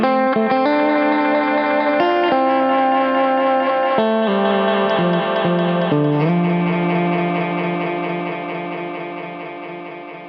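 A Korg 301dl Dynamic Echo runs with its ducking knob raised about a third of the way, processing a sustained, chord-like instrument. Shifting tones repeat in dense echoes for about ten seconds, loud and steady at first, then slowly fading with no talking.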